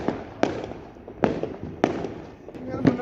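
Diwali firecrackers burst in a village celebration, four or five sharp cracks spaced roughly half a second to a second apart, fairly close, over a low background murmur.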